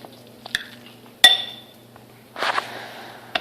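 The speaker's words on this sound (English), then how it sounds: "crack an egg, only one, and mix it in" An egg mixed into tuna in a bowl: sharp utensil clinks against the bowl, a brief burst of scraping and mashing, then a last tap, with quiet gaps between and no talk.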